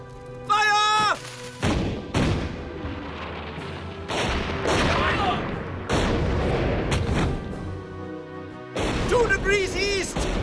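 Cartoon cannons firing in an animated children's adventure set in the Last of the Mohicans story: several loud, sharp booms at irregular intervals, with shouting voices and music between the blasts.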